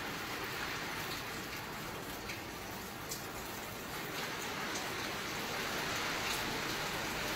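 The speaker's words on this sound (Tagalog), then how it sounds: "magti 3 days na walang tigil yung ulan." Steady rain falling during a long stretch of storm weather, a constant broadband hiss of drops hitting surfaces, with occasional louder individual splashes, fairly quiet and unbroken throughout.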